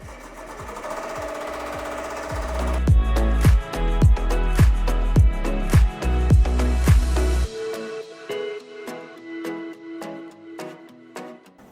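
An embroidery machine stitching a trace line for vinyl appliqué, loud and near: a rapid rhythmic needle thumping with a mechanical whir that later drops to a lighter, quicker patter.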